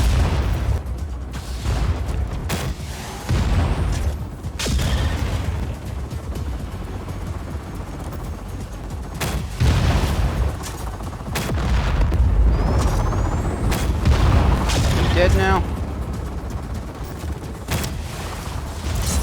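Explosions and booms in Just Cause 4 from rocket launcher and bomb use, loud heavy blasts recurring throughout amid a dense, rumbling game soundscape.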